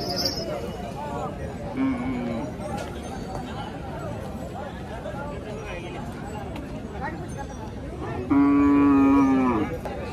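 Bulls at a cattle market in Pathardi lowing loudly, with one long, strong moo near the end and a shorter one earlier, over a busy crowd murmur and people talking.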